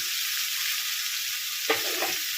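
Pointed gourd and potato pieces fry in oil with freshly added tomatoes, giving a steady, loud sizzle. A single clattering stir comes partway through.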